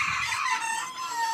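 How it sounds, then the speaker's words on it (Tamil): Mysore naati chickens, 45 days old and about 450 grams, crowing and clucking in a short, shrill, high call, close and fairly loud. "இப்போ நீங்கள் பார்க்குற கோழி பார்த்தீங்கன்னா நம்ம மைசூர் நாட்டி"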